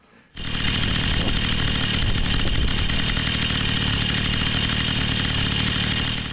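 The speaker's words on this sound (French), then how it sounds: "le moteur on l'a vu tourner au ralenti" A modified Peugeot 102 moped engine fires up after a moment of quiet, then settles into a steady, close, buzzing idle that holds evenly.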